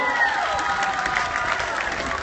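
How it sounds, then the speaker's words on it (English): Crowd applause and cheering from an audience at a men's belly flop competition poolside on a cruise ship, a steady wash of clapping and shouts with no clear pause across the short stretch. "Give him a nice round of applause, everybody"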